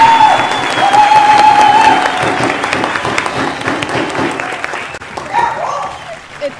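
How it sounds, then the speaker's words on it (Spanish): An audience applauds steadily in a dense wash of clapping that gradually thins, with a voice speaking over it. "aplausos, por favor"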